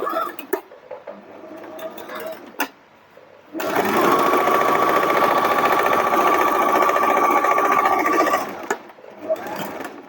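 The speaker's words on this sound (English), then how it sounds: "Take it back to your sewing machine." A sewing machine runs in one steady, loud burst of rapid stitching for several seconds while sewing a French seam, with quieter handling noises before and after.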